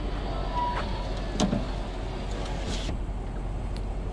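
A power window on a 2004 first-generation Toyota Sequoia whirs upward in a faint, steady motor hum that ends with a soft thump as the glass seats, under low background noise.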